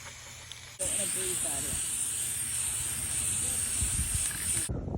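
Spray paint cans hissing steadily as a 50-year-old hay elevator is painted, a loud continuous aerosol spray starting abruptly and running for several seconds before cutting off, with faint background noise.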